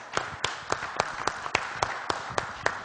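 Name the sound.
audience applauding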